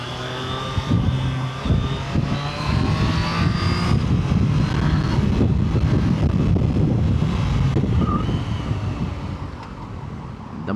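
Motorcycle exhaust and engine hum while riding on a highway in traffic, steady and close with heavy wind buffeting throughout and some tonal engine drone shifting over the ride.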